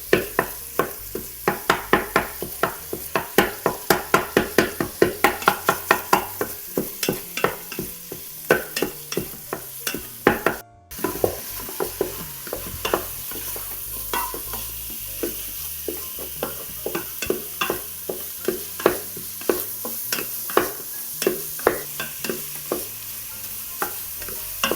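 Italian sausage sizzling in an Instant Pot while being chopped and stirred, with a steady frying hiss under rapid rhythmic scraping and tapping of a utensil against the pot, faster at first and then more spaced out, with one brief silent gap.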